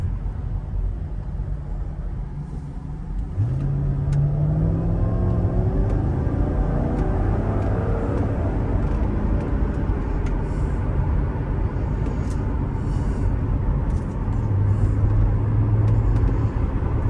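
A 2005 Mercedes SL500 on coilovers accelerates with a little gas, its engine rising from a low idle-like rumble into a steadier drone with rising tone, heard from inside alongside road and tyre noise.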